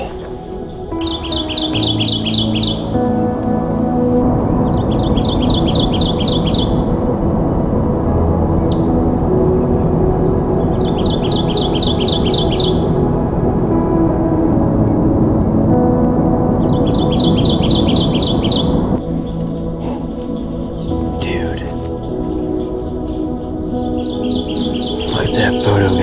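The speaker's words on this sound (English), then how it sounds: "The Kentucky warbler." A Kentucky warbler sings along an old dirt road, repeating a rolling, high-pitched phrase about every three to four seconds over a loud, continuous low rumble of wind or handling noise.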